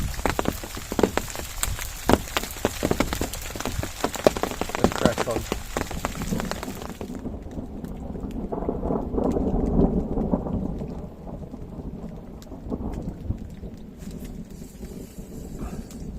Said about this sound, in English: It's getting very dark, it's quite heavy, but it's only a summer storm, so it should pass over pretty quickly.